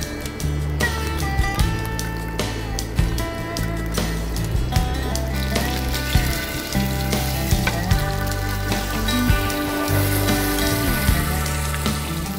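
Salmon fillets sizzle steadily in oil in a frying pan, a continuous close crackle and spit with small pops throughout, no voices.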